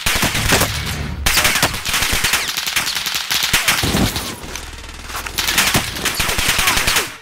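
Rapid automatic gunfire rattles loudly and almost without pause in Call of Duty: Modern Warfare, dense bursts of shots near and far, with a short lull midway.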